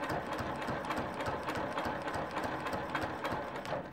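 A sewing machine stitches a row of a quilt, a steady, close mechanical whir with a rapid even needle rhythm running throughout without pause.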